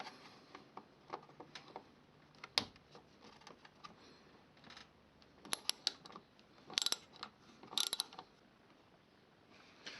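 A ratchet works Torx T30 bolts loose from the front bumper of a Volkswagen Passat, faint quick clicking bursts and metallic ticks spread over the quiet clip, with a few sharper clinks.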